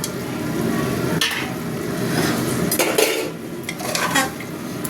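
Mutton tipped into spiced masala in a pot and stirred: steady sizzling frying throughout, broken by loud spoon scrapes and clatters against the metal pot at irregular moments, close and with no talk.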